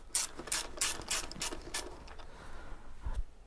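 A ratchet wrench works bolts loose on a Husqvarna motorcycle engine, giving quick bursts of crisp clicking pawl sounds, fairly faint and close, repeated several times over a few seconds.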